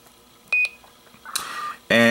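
Two short key touch beeps from an Icom IC-R20 radio scanner in quick succession, followed by a faint hiss and another louder tone at the end.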